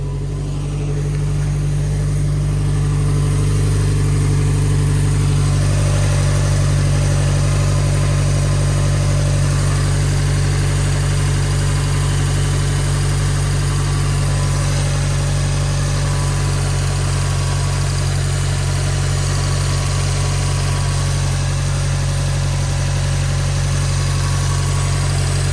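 A Subaru WRX STI fitted with a PLM equal length header idles close by, a steady, deep, even rumble with a smooth low drone that holds for the whole stretch.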